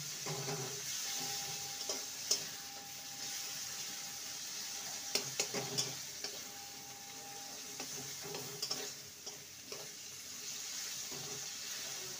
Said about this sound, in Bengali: এবার একটু খুন্তি দিয়ে ম্যাশ করে নেব।